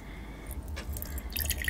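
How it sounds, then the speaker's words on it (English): Water is poured into a container during a quiet lab task, heard as soft, faint splashes and drips in a short burst against a hushed background. "pouring the water in"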